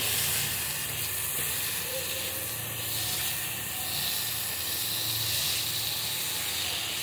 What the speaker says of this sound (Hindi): अब इन सब्जियों में डालेंगे हम पनीर, और इसको 10 से 15 सेकंड चलाएंगे।